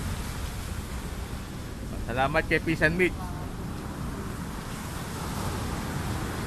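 Big waves at sea in bad weather, a steady rushing roar of water and wind noise throughout, with someone speaking briefly over it near the middle.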